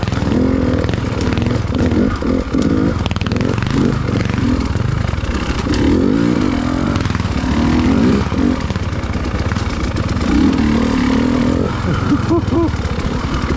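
A big Honda motorcycle engine churns just ahead on a snowy winter single-track trail, a continuous rough drone rising and falling with throttle under wind rush, heard from a following rider.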